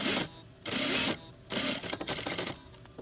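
Sewing machine stitching a sweatshirt hem in short bursts, a close buzzing whir that runs, pauses, runs again, then breaks into quicker stuttering stitches.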